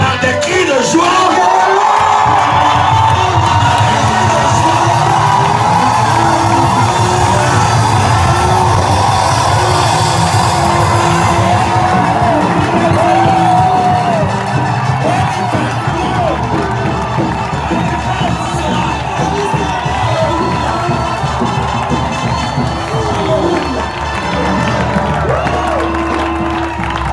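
A church congregation at a New Year's Eve night service, 2023 to 2024, erupts in loud, sustained cheering, whooping and joyful shouting that fills the hall continuously.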